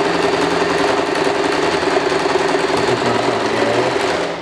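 A sewing machine stitches fabric lengths for a snood, a loud, steady mechanical whir running close and continuous before easing off at the end.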